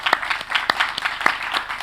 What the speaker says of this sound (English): Please, can we give a huge round of applause to our amazing BSL interpreters